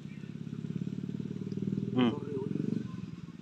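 A motorized tricycle engine runs steadily with a low, pulsing rumble throughout, swelling slightly as it passes close by, with a brief higher whine midway.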